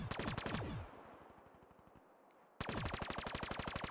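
Rapid automatic gunfire from Call of Duty Black Ops 3 Zombies, a fast loud burst that fades into a brief lull before another steady stream of shots resumes.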